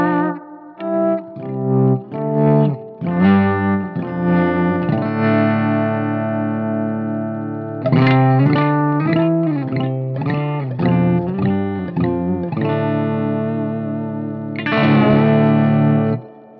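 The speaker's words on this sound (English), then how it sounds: "the reverb springs go boing" Electric guitar notes and chords ring out through a Reeves amp spring reverb, each strum followed by a splashy, echoing, boing-like tail.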